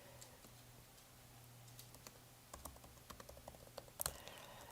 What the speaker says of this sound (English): I'm typing this out for you as we're talking